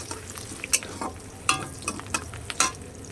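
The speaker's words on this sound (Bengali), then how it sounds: "এবার আমি এটা ভালো করে ভেজে নেবো পেঁয়াজটা।" Onions stir-fried in a pan, a soft sizzle broken by sharp scraping and clacking strokes of a spatula at irregular intervals, close by with no talking.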